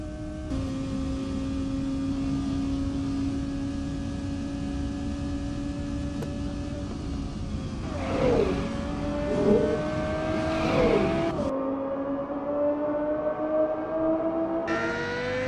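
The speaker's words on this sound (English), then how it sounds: "using equalization, I used the same car sound" An equalized car engine sound effect for a short film, a steady droning hum that holds level and then shifts pitch with whooshing passes midway, alone with no voices.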